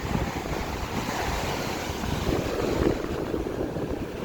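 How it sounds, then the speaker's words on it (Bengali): Sea waves at Puri beach in the evening wash in a continuous broad rush of surf, mixed with gusty wind buffeting the microphone, with no clear voices over it. "সমুদ্রের ঢেউ দেখতে বেশ ভালোই লাগছে"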